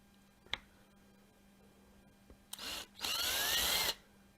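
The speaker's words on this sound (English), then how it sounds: "I'm going to drill another one." Power drill boring holes through leaded glass work for a solar light terrarium, starting with a couple of faint clicks, then a short burst of whirring, then a louder, longer grinding run close by.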